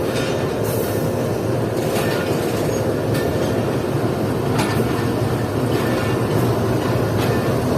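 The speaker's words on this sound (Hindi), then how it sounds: "ट्रेन स्लो हो चुकी है इस वक्त।" A Khyber passenger train slowing down on rails, a steady loud rumble from inside with rhythmic wheel clatter, faint metallic squeals and occasional clunks, continuous throughout.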